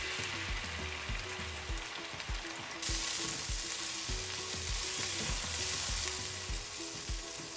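Ginger, garlic, green chilli and coriander paste fries with browned onions, giving a soft continuous sizzle with rhythmic stirring scrapes against the pan, the sizzle brightening partway through, no talking.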